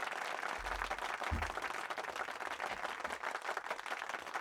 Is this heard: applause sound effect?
yes